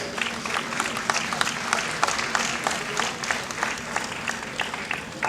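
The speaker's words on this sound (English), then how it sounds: "with a big round of applause" Steady applause from a crowd at a Rotary event, many hands clapping continuously at moderate volume, heard from a short distance with no voices standing out.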